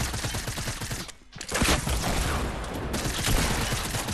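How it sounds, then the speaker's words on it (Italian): Rapid, dense gunfire crackles continuously in a shooter video game, dipping briefly for a moment before resuming at full intensity with overlapping shots. "ci sparano altri."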